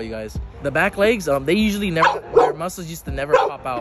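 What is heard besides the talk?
dog barking, wanting to play ball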